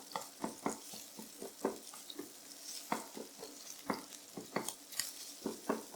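Spicy sausage is broken up in a frying pan with rapid, irregular scraping and tapping strokes of a utensil over a soft background sizzle, close and moderately quiet.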